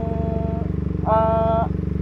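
A Benelli TNT 249S motorcycle in worn condition idles with a steady, close engine drone as it creeps forward in first gear with the clutch held. A brief higher-pitched rise in the engine note comes midway through.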